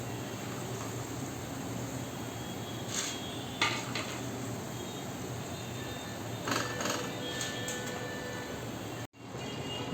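Fried potatoes scraped from a pan into a bowl, giving a few scattered metallic clinks and scrapes of utensil on cookware over steady kitchen background noise, with a brief dropout near the end.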